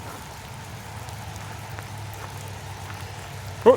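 Rain falls steadily outdoors along a nature walk in McElhattan, a soft, even patter with faint drips, ending with one brief louder knock up close.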